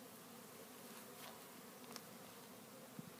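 Honeybees buzz in a continuous, fairly faint drone around their queen as a bee package is installed into a hive outdoors, with a few brief closer passes.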